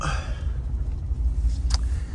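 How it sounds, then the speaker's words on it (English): Trucks rumble past at a garage yard, a steady low engine drone filling the scene with a brief higher hiss near the end; no talking. "Trucks are heading out."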